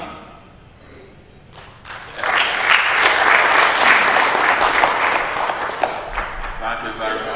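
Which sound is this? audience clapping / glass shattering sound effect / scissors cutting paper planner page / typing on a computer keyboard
audience clapping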